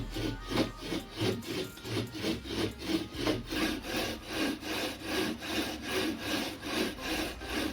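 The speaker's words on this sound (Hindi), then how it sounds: "इस तरीके से हमें गरारी में एमरी लगानी है" An umbrella-machine gear is lapped with emery, a rhythmic gritty grinding that repeats back and forth about twice a second. The steady strokes are close and moderately loud, with no talk.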